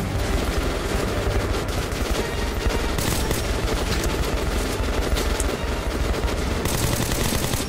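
Sustained gunfire in a shootout in the video game Metro Last Light Redux, dense overlapping shots and bursts at a constant loud level throughout, with no speech.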